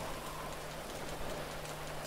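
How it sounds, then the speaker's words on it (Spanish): Rain falling in the video game GTA 5, a dense, even hiss of drops on surfaces, steady and moderately quiet with a faint low hum beneath and no voices. "está lloviendo, me estoy mojando todo"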